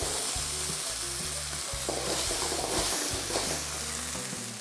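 Eggplant and miso paste sautéing in a wok over medium heat, a steady close sizzle with stirring scrapes throughout, no voices.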